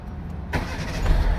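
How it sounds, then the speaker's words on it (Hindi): A Hyundai Santro catches on the starter and settles into a steady, close mid-range engine idle after a brief initial silence, with no voices. "ये गाड़ी स्टार्ट की"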